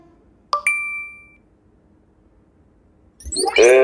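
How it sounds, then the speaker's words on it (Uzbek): A single bright electronic ding from a phone message notification rings out clearly in a quiet room, fading over a second, followed later by a brief burst of other sound. "Sizga xabar keldi."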